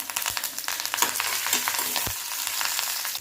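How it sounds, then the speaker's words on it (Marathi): Coarsely crushed garlic and curry leaves sizzle steadily in hot oil for a Kolhapuri thecha, with sharp crackles and pops over a constant frying hiss and occasional stirring, close and fairly loud. "तेल गरम झालेलं आहे त्याच्यामध्ये आबडधोबड वाटलेला लसण टाकायचा कढीपत्ता टाकायचा"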